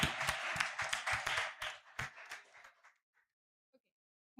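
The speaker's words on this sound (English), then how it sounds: "Let's give her a round of applause, please." An audience applauds a speaker introduced for a talk on the TikTok generation and political humor, with brisk clapping that thins out and fades to silence within about three seconds.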